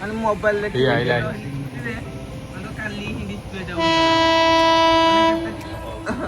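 A train rumbles past with voices talking over it, then a loud sustained horn blasts for a couple of seconds near the end.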